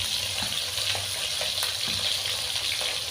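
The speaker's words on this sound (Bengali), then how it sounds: "নুন হলুদ মেখে মাছটা ভাজা দিয়ে দিয়েছি" Koi fish coated in salt and turmeric sizzles steadily in a generous pool of hot oil, a loud continuous crackle with small spattering pops throughout.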